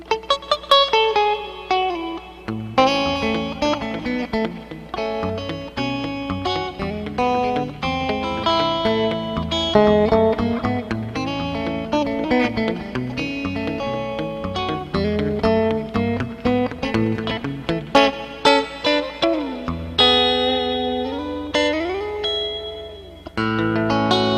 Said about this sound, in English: Just a pure guitar and the effects that's in this mixer, a little delay and a little reverb